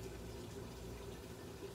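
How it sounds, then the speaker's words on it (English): Water poured slowly into a pot of peanut butter while making African peanut soup, a steady soft trickling and gushing that runs continuously at low volume with no talk. "I'll say 2 cups of water that I'm going to put in here slowly."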